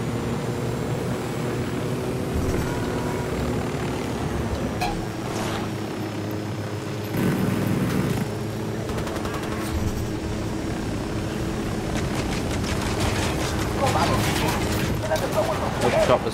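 Helicopters in the Ghost Recon Wildlands video game, a steady droning rotor and engine rumble that holds across the whole stretch, with bursts of gunfire, game effects and players talking over it.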